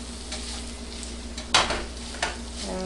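Ground beef frying in a pan with a soft steady sizzle, a low constant hum in the background and a couple of sharp clinks of a utensil against the pan.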